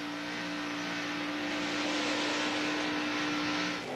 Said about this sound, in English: All 11 cars that started are just like one connected train coming off of turn 2 and down the backstretch.